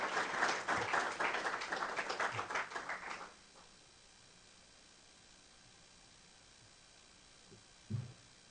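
An audience welcomes someone speaker at a lecture event with dense applause for about three seconds. The clapping then stops abruptly into quiet room tone, with a small thump near the end.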